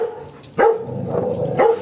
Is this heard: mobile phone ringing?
no